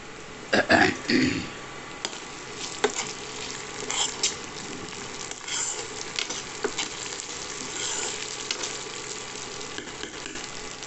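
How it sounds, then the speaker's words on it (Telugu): Peanuts are stirred in a frying pan, loud rattling scrapes at the start giving way to a steady sizzle with intermittent stirring clatter throughout, close up. "పల్లీలు వేసాక ఒకసారి కలపండి."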